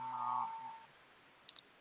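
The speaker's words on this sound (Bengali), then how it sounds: "ফোন রিং হচ্ছে" A phone call placed through a free calling app gives a short ringing tone at the start, fairly faint, which trails off into quiet, followed by a couple of small clicks.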